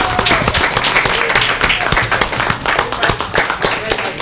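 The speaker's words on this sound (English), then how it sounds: "Let's give Ed a big round of applause." An audience at a village board meeting claps in a dense, loud round of applause that carries on steadily throughout, with light talk mixed underneath.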